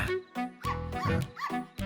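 A pet dog in a Telugu romance-comedy film scene gives a quick series of close, sharp yips and barks with brief whimpering tones between them.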